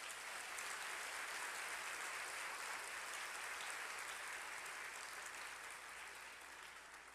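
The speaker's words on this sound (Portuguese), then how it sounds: "Você podia aplaudir o Senhor por isso" A church congregation applauds, a steady, distant wash of clapping that holds evenly before gradually thinning and fading toward the end.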